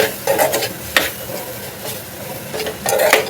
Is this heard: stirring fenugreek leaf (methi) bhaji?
yes